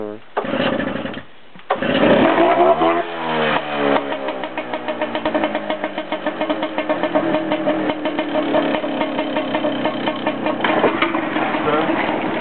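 Engine of the boat Osprey at Brightlingsea running again after stalling before warming up, a close, steady rhythmic chugging throb that settles into a regular idle, with voices audible early on.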